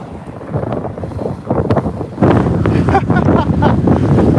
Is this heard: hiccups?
no